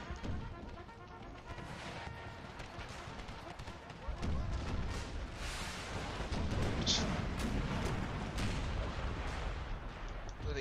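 Musket volleys and artillery fire in an American Civil War battle in Empire: Total War, a rolling crackle of gunshots and dull booms that swells midway, with a voice speaking over the fighting.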